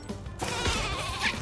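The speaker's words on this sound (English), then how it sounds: "I'm shooting a whole bunch of sheep at him" Bleating sheep fired from the sheep weapon in the video game Worms Rumble, with a few warbling bleats over busy game noise in a short, fairly close burst.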